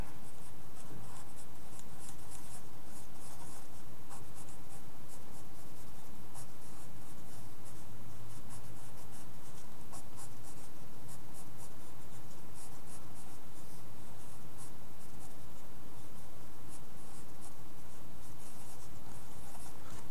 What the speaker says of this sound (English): let's go ahead and draw the lower body